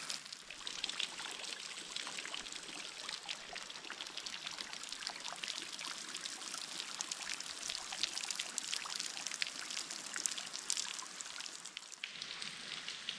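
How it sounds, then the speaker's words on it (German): Water from an artesian spring in Sweden, flowing from the ground since 1868, bubbles and splashes in a constant close hiss and patter that continues steadily without pause. "der Druck des Wassers ist so stark, dass hier seit 1868 das Wasser aus der Erde sprudelt"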